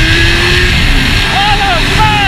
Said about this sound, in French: Putain, le moteur comment il est rageur!